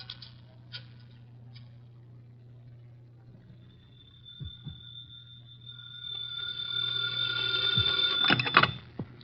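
A telephone rings in a phone booth, a clear repeated bell that grows louder toward the end over a low steady hum.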